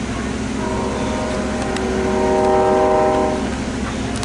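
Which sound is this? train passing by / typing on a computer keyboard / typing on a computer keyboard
train passing by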